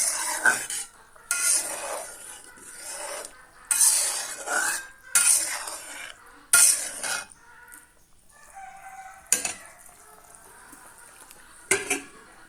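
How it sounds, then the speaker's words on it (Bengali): A lid clinks onto a pot of simmering stinging catfish curry amid scattered metallic scrapes and clatters of stirring and cookware, close and intermittent with quiet gaps. "আবারও ঢাকনা দিয়ে ঢেকে দিলাম"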